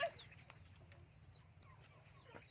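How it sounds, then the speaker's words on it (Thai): Betong chickens on a farm give soft, scattered clucks at a moderate distance, with a brief louder call at the start over a low, steady background hum. "นี่ไก่เปตง ไก่เปตง"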